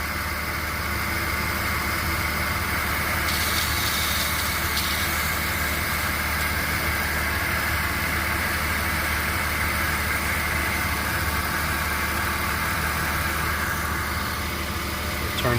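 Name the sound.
2000 Porsche Boxster 2.7 engine idling with serpentine belt noise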